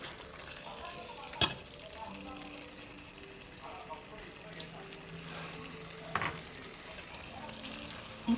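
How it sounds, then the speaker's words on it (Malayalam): Ingredients for a thatticoot-style pork roast sauté in a pan with a faint, steady sizzle, broken by a few brief clinks of utensils. "ഉള്ളി വഴറ്റുന്നതിന് മുമ്പേ അത് വഴറ്റിയെടുക്കും."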